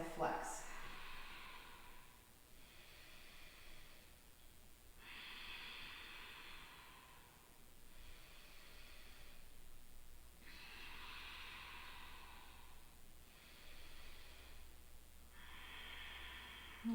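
Slow, soft breaths during a yoga hip-and-hamstring stretch, rising and falling in a steady rhythm of long exhales with quiet pauses between, close to the microphone and fairly faint.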